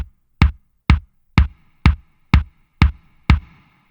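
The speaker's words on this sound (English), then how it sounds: "is going to sound like this kick drum here at the moment" Kick drum from a mix, eight punchy, evenly spaced hits about half a second apart, loud and close with short decays.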